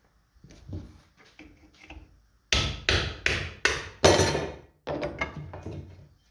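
A hammer driving a chisel to knock a part off a scrap copper electric motor: a few light taps, then a run of loud, sharp metallic blows in quick succession, close by.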